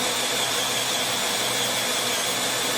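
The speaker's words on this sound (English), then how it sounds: "So I'm gonna drill out that pitman arm and then slap that on." A drill bores steadily through a truck's steel pitman arm, giving a continuous, loud grinding whir with no pauses and no voices.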